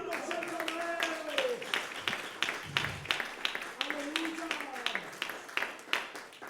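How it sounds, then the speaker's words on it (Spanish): A church congregation claps in a steady, rhythmic beat through a worship service, with the claps running beneath a voice that speaks and sings throughout. "dale palmas al Señor"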